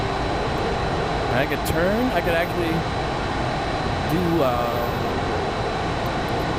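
A jet plane flies in the VR combat game Dawn of Jets, a constant loud engine roar filling the scene throughout, while someone talks over it.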